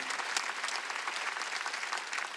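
A church congregation at a Wednesday worship service applauds, a soft, even patter of many hands clapping in a large room, heard alone at low level for a couple of seconds.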